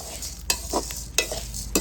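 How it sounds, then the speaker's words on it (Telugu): Coriander seeds dry-frying with cinnamon and cloves in a pan on a stove, with a spoon scraping and stirring in a few distinct strokes over a constant light sizzle, close and clear, and no talking. "ఫస్ట్ ధనియాలు అయితే మా అమ్మ ఇట్లా ఫ్రై చేసుకుంటుంది పొయ్యి మీదనే పెట్టుకొని"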